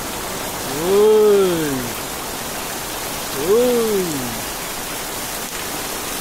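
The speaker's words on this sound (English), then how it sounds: "Happy raining, guys!" Heavy rain pours down steadily during flooding in a slum area, a constant loud hiss, while a voice exclaims twice over it.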